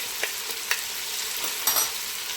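Curry powder and garlic sizzle steadily in a hot frying pan for a chicken stir-fried spaghetti, a close, bright crackle with a few sharper pops and stirring clicks.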